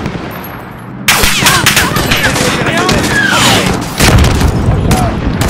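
Booming explosions and bursts of gunfire from a Call of Duty Modern Warfare embassy mission, loud and continuous with sharp swells near 1 s and 4 s, while radio-style voices talk over the battle.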